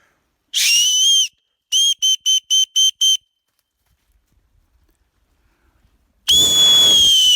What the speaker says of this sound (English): these caps could actually make a life-saving emergency whistle